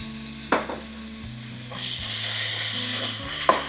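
Zucchini and bell pepper sautéing in a hot pan, a steady sizzle with scraping stir strokes and a few sharp clinks of a utensil against the pan, close and continuous with no talking.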